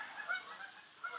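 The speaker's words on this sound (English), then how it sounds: "We just added some baby geese here, so the parents are chasing all the other geese off." Geese honk repeatedly, the adult parents of newly added goslings driving other geese away; the calls sound moderately distant and continuous, layered in overlapping bursts with no talk.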